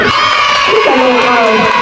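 A crowd at a Christmas party cheers and shouts loudly together, with children's voices whooping over a dense, continuous roar of voices for a couple of seconds.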